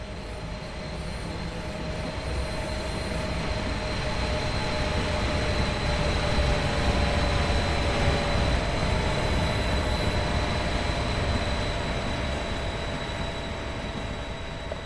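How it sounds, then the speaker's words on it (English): A train pulls away from a station, its broad rumbling roar building and then easing, with faint high wheel squeals and a steady tone over the continuous rail noise, no talking. "let's listen while this train is leaving"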